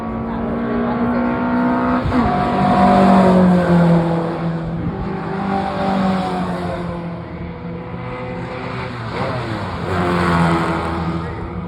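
A race car powered by a tiny Morris Minor engine screams at high revs, its whining engine note rising and falling as it passes, loud and sustained with faint background noise.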